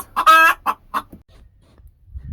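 A hen clucks in a quick burst of several close, loud calls at feeding time on a homestead, then the sound drops to quiet rustling.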